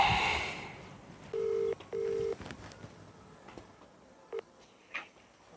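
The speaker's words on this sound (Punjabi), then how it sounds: "ਸਰਪੰਚ ਨੂੰ ਵੀ ਕਰਤਾ ਫੋਨ ਯਾਰ" A telephone being dialed to place a call, with a few clear electronic keypad tones, two longer beeps followed by a single short one, in a quiet room.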